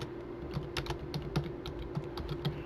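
Quick bursts of keystrokes tap on a computer keyboard, close and crisp, a dozen or so clicks in an uneven rhythm over a low steady hum, with no one speaking.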